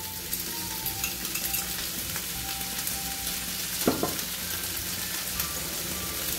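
Halved cherry tomatoes and olives roast in a hot pan, giving off a steady, even sizzle that holds through the whole stretch, with one brief clink partway and no voices.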